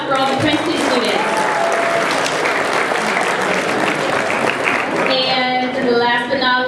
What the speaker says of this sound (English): Let's get a round of applause for all the Princeton students.